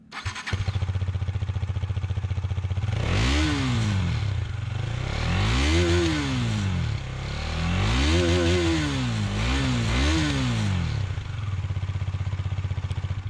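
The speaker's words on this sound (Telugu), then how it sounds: "దీని ఎగ్జాస్ట్ నోట్ కూడా మనకి కొంచెం KTM ఎగ్జాస్ట్ నోట్ లాగా అనిపిస్తుంది." A Husqvarna Svartpilen 250 motorcycle engine starts and revs repeatedly, each throttle blip rising and falling in pitch over a steady idle, loud and close with no talking.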